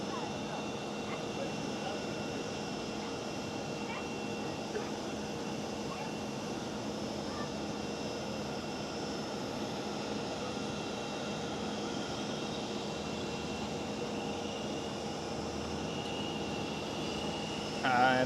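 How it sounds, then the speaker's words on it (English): A KLM Boeing 787-10 jet taking off at Amsterdam Schiphol, heard as a steady, fairly faint engine roar from a distance that holds evenly throughout, with a brief louder swell right at the end. "KLM 787-10 lined up and ready to go."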